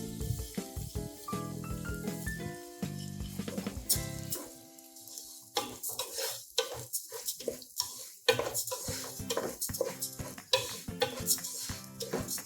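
Washed kaima rice being stirred and fried with onion in a pot for Kerala-style ghee rice: clattering spoon scrapes and knocks over a low sizzle, close and irregular.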